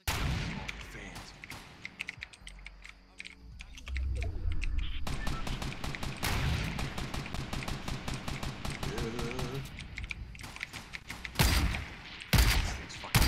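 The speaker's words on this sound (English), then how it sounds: "Let me get on this shootout right here real quick" Rapid gunfire crackles through a Fortnite shootout, with dense automatic bursts and single shots stacked over a dozen seconds, keyboard clicks mixed in and loud close volleys near the end.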